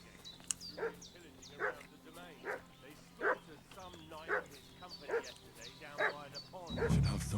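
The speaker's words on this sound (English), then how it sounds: "What's that dog making such a fuss about?" Dog barking and yapping in the medieval video game Kingdom Come: Deliverance II, a run of repeated barks at a steady rhythm over faint ambient music, with a louder low rumble at the end.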